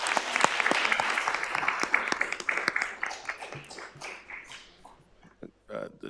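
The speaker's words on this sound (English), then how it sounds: "Let's give Cece a big round of applause in her retirement." Applause fills a board of trustees meeting to honor a retirement, dense clapping that gradually thins and tapers off, with a few voices talking as it fades.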